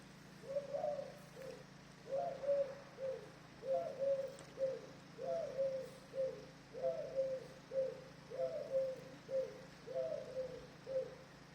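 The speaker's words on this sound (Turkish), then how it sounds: "Bakın kuş" A pigeon or dove coos in a steady repeating pattern, about a dozen soft two-part phrases at even intervals over a faint outdoor hum, moderately close and alone.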